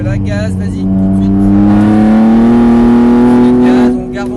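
Close, loud kart engine on a circuit, its droning note climbing steadily in pitch as it accelerates, then easing off near the end, while a coach's voice talks over it.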